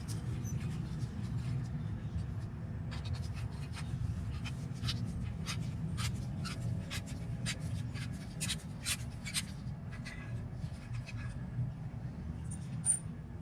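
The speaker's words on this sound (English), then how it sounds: "I take a Allen key, loosen our pin" Allen key working a brake caliper pin loose on a Harley-Davidson Touring motorcycle, a run of faint, quick metallic ticks and scraping clicks in the middle of the clip over a low background hum.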